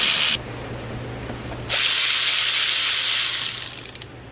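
A ratchet drives out the cam gear screws on an engine, with a steady clicking ratchet sound in two bursts separated by a short pause and trailing off at the end, close and alone.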